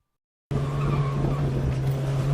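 After a moment of silence, an autocross car cuts in loud with a steady engine drone held at the rev limiter, mixed with tire noise as it brakes hard, heard from inside the cabin.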